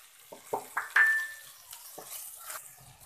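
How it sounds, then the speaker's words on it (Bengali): Chopped tomato being stirred into a frying pan of already fried ingredients for an egg and cabbage bhaji: a few soft scraping stirs and a light sizzle, close and fairly quiet, with no talking. "তো আমি টমেটো কুচিটা খুব ভালোভাবে মিক্স করে নিয়েছি"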